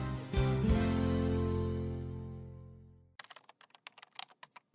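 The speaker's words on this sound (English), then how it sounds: "A man is sitting at his desk, typing at his computer." Keys clatter on a computer keyboard at a desk: a quick, uneven run of light clicks that follows the fading ring of a long, sustained chime.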